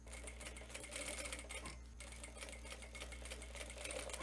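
A sewing machine stitches bias binding onto a shirt, running continuously and close for the whole stretch with a dense, even mechanical whir and a short pause midway.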